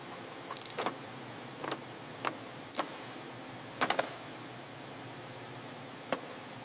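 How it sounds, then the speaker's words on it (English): Tightening parts on a large bison-style model vehicle in a garage: a handful of faint, sharp clicks and ticks spaced irregularly over quiet background, with a brief cluster of snaps midway. "Now for the tightening."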